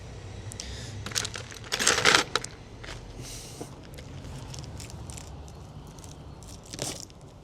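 Cutting pliers snip through packaging, giving sharp metallic clicks and crunches, with a loud cluster of snaps near the middle and another brief snap toward the end over a quiet background.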